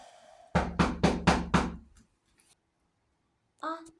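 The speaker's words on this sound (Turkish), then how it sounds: "kapı çaldı." Five quick, firm knocks on a door in a home, loud and close in an even rhythm, followed by silence and then a short burst of indoor voice.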